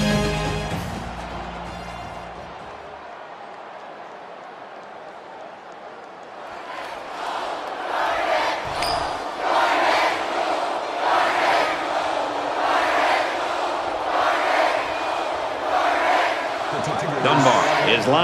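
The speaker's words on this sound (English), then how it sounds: "you can feel the thunder in the crowd as they await the start of this game" A packed college football stadium crowd roars steadily before kickoff, a broad swelling wall of cheering that builds and stays loud, with an announcer talking over it.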